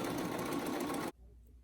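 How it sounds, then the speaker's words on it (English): A sewing machine stitching along the edge of a pleated fabric face mask, a fast, dense mechanical whir that runs steadily for about a second and then stops abruptly into near silence. "I'm going to stitch that all along the edge"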